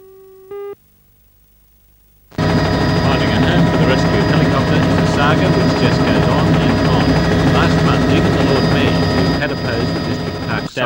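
A rescue helicopter in Newcastle roars in after a brief electronic tone, its rotor and engine noise loud, close and continuous for several seconds.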